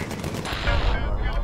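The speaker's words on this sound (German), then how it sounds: "Okay, und Raketen schießen." Weapons fire in Bomber Crew, a World War II bomber video game: a loud burst of rapid automatic gunfire with heavier rocket-like blasts, close and dense over about a second.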